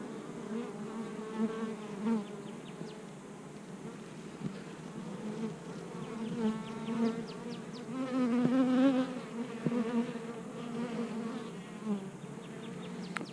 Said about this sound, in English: these bees are all calm and laid back